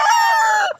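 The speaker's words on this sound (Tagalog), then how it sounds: "Ayan po, yung mga stag." A gamecock stag crows at a game farm, one loud, close, harmonic cock-a-doodle-doo that holds steady and then breaks off sharply near the end.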